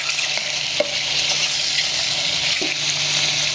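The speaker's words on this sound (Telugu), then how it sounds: "మష్రూమ్స్ వేసుకుందాం. బాగా ఆయిల్లో ఇలా వేగాలి." Mushrooms frying in hot oil with onions and chillies, a loud continuous crackling sizzle with a couple of faint utensil knocks, no talking.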